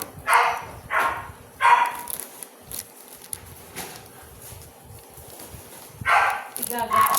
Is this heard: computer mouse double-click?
no